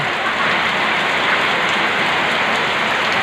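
Heavy rain pours steadily, a dense unbroken hiss of drops striking surfaces, loud and continuous throughout with no voices.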